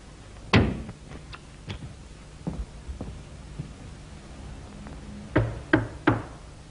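Knocks on a draper's shop door ring out as a radio drama effect from 1933: sharp raps in small clusters, a pause, then a louder final burst, close and with no voices.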